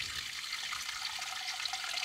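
Water pours steadily into an aquarium tank as it fills, a continuous close splashing rush with no pauses and no talking.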